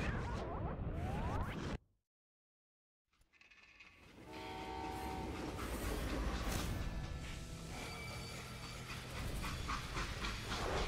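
Rumbling train noise from Call of Juarez: Gunslinger with a sustained horn-like tone, cut by a sudden second of silence before the rolling rail sound returns loudly.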